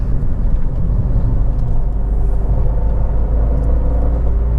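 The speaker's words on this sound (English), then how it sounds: "But the engine pulls really, really sweetly." Fiat 500 0.9 TwinAir S three-door engine running, a loud steady low rumble and whir heard from inside the car, continuous and even with no talk.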